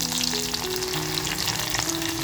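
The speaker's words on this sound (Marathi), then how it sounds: "आता जी लसूण टेचून घेतली ती लसूण टाकते" Crushed garlic dropped into hot oil in a heated clay pot, cooking for a crab kharda: a loud, close, continuous sizzle and crackle that holds steady throughout, with no voices.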